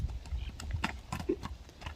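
Hooves of a horse at a livestock market clip-clop in a steady, fairly close rhythm of sharp knocks, with faint murmuring voices in the background.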